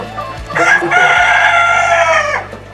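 Kadaknath chickens on a poultry farm, with one rooster giving a loud, drawn-out crow lasting about two seconds over faint background clucking.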